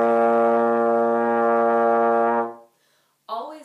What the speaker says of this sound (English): Nice, firm embouchure makes for a good tone.